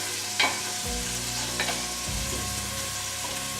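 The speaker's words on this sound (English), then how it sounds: "as we let the garlic and the onions simmer" Garlic and onions sizzling and frying in a soup pot for carrot ginger soup, a steady close crackle with a few soft stirring knocks, no voices.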